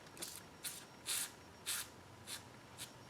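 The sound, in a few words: silicone spray aerosol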